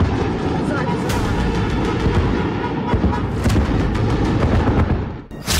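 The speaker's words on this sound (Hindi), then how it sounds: "आधे घंटे के अंदर धमाके ही धमाके होते हैं" Explosions from a Russian missile attack on Kyiv, recorded from a home balcony during a midnight strike, appear as heavy, dense rumbling booms running throughout, partly blended with speech.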